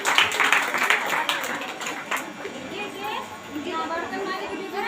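A church congregation at a Sunday prayer service claps loudly in thanks. Brisk clapping fills the first two seconds, then fades into chatter and children's voices.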